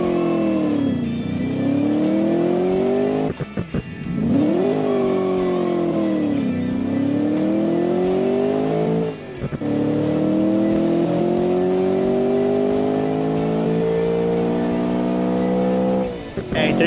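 Small car with a 140 HP V8 on four carburetors tearing around a fast lap in the Automation game, engine loudly revving up through gears with pitch climbing and dropping at shifts and braking.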